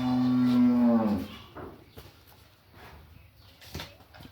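A dairy cow that calved three days earlier lets out one loud, close, drawn-out moo that fades after about a second, followed by quieter shuffling and faint farmyard noises.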